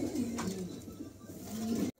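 Pigeons coo in low, repeated rolling calls throughout, loud and close, with a steady murmur of birds behind and no talking.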